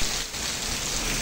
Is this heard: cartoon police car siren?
no